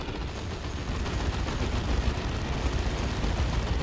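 Assault cannon fire in the real-time strategy game Dawn of War 2: a dense, continuous rattling barrage of rapid gunshots, loud and steady for several seconds with no talk.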